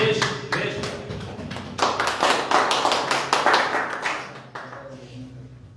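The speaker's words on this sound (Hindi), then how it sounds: "तो आइए जोरदार ताली के साथ स्वागत करेंगे" A church congregation claps to welcome a preacher, giving a brisk, rhythmic run of loud hand claps in uneven bursts that fade toward the end.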